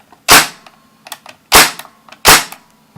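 A G-55 WELL gas blowback MP5K airsoft gun fires three loud, sharp cracks about a second apart, each followed by fainter mechanical clicks and rattles of the action.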